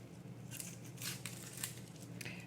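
Outer papery layer of a sweet onion being peeled by hand, a few faint dry crackling and tearing rustles in short bursts, quiet and close.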